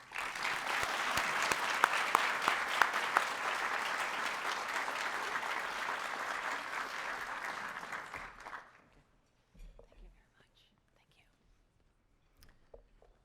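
An audience applauds warmly as Big East Conference commissioner Val Ackerman is welcomed to the podium at a Marquette University women's athletics event, sustained clapping for about eight seconds before it dies away to quiet room noise.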